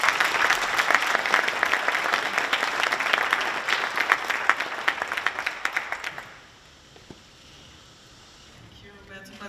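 An audience at a joint breakfast event claps loudly and thickly for about six seconds, then the applause fades quickly into quiet room tone with a few scattered claps.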